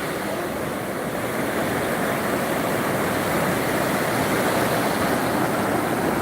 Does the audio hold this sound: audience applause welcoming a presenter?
no